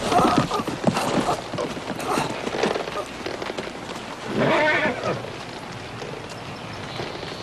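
Horse hooves clip-clop steadily on hard ground in a 1992 Western drama, a continuous rhythmic clatter with a louder burst midway, mixed with people talking.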